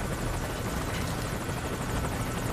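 Steady, close helicopter rotor thump and turbine roar from Metal Gear Solid 5: Ground Zeroes, continuous and loud throughout with no voices.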